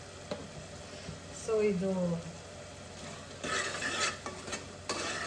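Fenugreek (methi) seeds frying in hot oil in a pan, a soft continuous sizzle with scraping stirs and a louder crackle near the end, while a person talks briefly.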